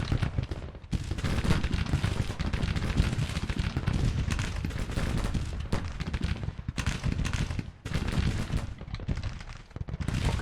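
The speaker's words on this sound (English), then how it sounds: "now they are all firing" Musket volleys from troops in the Grand Tactician: The Civil War battle game, set in woods, form a dense, continuous crackle of massed gunfire with heavy booms that roll on throughout.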